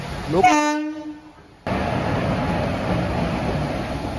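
A MEMU train on the Kakinada Town–Lingampalli Special Express sounds a loud, sustained horn blast that cuts off abruptly, followed by a steady close rumble of the moving train.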